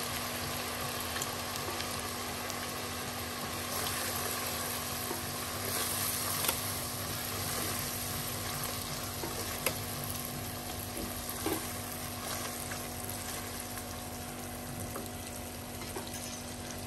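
Garlic and ginger paste, a teaspoon of each, fries in a pan for an arvi chicken gravy, giving a continuous soft sizzle with faint stirring over a steady background hum and no speech.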